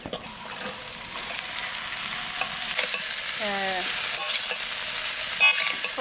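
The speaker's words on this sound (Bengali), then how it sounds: "পেঁয়াজটা একটু হালকা করে ভেজে নিয়েছি এবার আলুটা দিয়ে দেবো" Sliced potatoes added to lightly fried onions in a hot pan, sizzling and frying steadily while a utensil stirs and scrapes in repeated strokes, close and clear with no talking.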